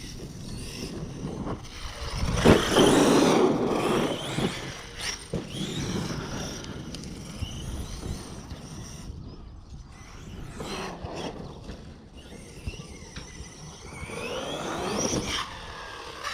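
A Traxxas Sledge RC monster truck runs at half throttle, its electric motor whining and buzzing with varying intensity, tires clattering over ground, moderately loud, rising and fading as it passes.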